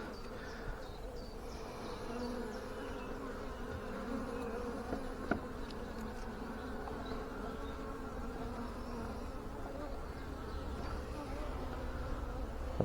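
Honey bees buzzing during a hive inspection, a dense continuous drone of many insects close by, quiet but steady with an occasional faint knock.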